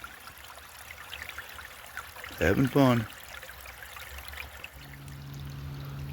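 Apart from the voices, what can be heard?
creek water flowing while gold panning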